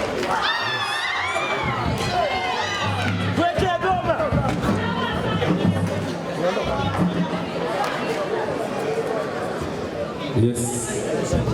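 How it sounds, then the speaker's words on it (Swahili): Crowd at a UDOM concert prize-giving, cheering and shouting loudly with lively chatter, whoops and a few bangs mixed in, close and continuous throughout, a voice talking over the noise at moments. "Kwa hiyo nataka nisikie shangwe kubwa sana."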